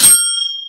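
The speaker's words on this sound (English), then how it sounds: "you gotta ring that bell" A single bright bell ding strikes once and rings out in clear, sustained tones that slowly fade over under a second.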